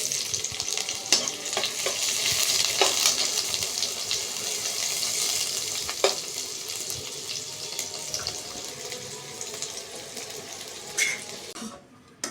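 Onions fry in ghee with cardamom, cinnamon and bay leaf, making a dense, even sizzle close by, broken by occasional utensil clinks and stirring taps before a sudden stop at the end; no one speaks.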